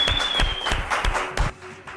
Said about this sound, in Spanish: El aplauso para Roy Benítez